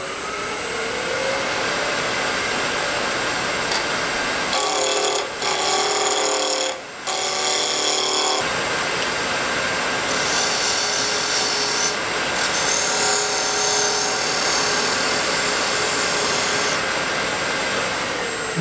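A spindle gouge cuts a spinning wooden piece on a lathe while making a threaded insert, a continuous raspy scraping over the steady motor hum, with brief changes in tone as the tool shifts against the wood.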